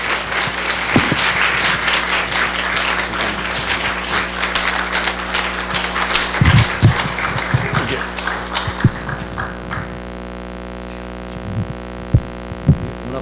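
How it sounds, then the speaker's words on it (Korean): Korean church congregation in Kansas at a revival meeting applauding to welcome a pastor, a full round of clapping for about nine seconds that fades out, leaving a low electrical hum and a few scattered thumps. "같이 박수로 모시겠습니다"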